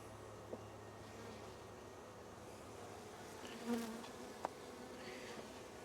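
Worker bees buzzing around an opened hive holding a split with a virgin queen; a steady, soft outdoor drone of many insects with occasional closer passes, no talking.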